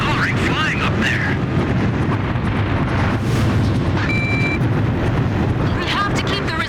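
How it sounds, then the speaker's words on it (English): Jet planes roar overhead in an Ace Combat 5 combat mission, a constant heavy engine rumble with explosions and gunfire mixed in. Game dialogue plays over the noise. "There are planes with jet black coloring flying up there."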